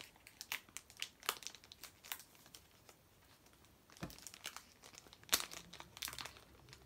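A Pokémon card booster pack is handled close up, with bursts of crinkling foil and crackling wrapper between quieter pauses, faint and without talk.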